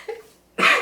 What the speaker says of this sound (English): Trying to have a coughing fit.